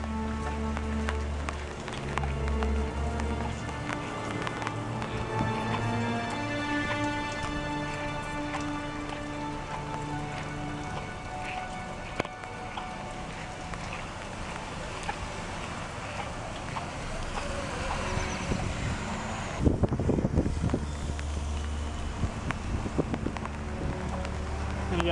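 Rain falls steadily outdoors beside a flooded road where a long queue waits, a continuous wash of drops and patter with occasional wind gusts and a louder burst near the end, no talk.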